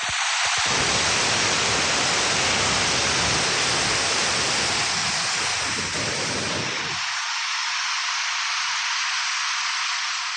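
A Niagara-area waterfall roars as a loud, unbroken broadband rush of falling water, close and constant. Its deep low rumble drops away partway through, leaving a thinner hiss.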